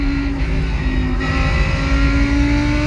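A mid-engine Lamborghini race car in iRacing roars at a steady high pitch, the engine droning loud and continuous on a road course with no voices over it.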